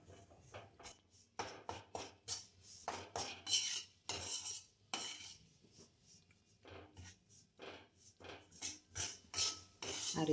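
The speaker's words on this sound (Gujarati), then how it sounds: "આ રીતે આપણે ધીમા ગેસે લોટને શેકી લેવાનો." Coarse flour is stirred and roasted in ghee over low heat for Gujarati sukhdi. Close, rhythmic scraping and rubbing strokes of a spoon against the pan repeat steadily throughout, with no talking.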